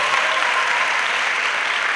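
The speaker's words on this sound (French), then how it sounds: "Offre d'acclamation à Jésus." A church congregation claps in acclamation to Jesus, a dense, loud, steady wash of applause lasting throughout with no voice over it.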